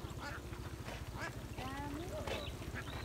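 Ducks in a rural field quack repeatedly in short, nasal bursts. A steady, low, pulsing rumble runs continuously underneath the calls.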